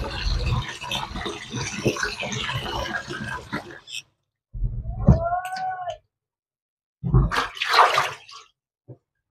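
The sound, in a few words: washing meat with running water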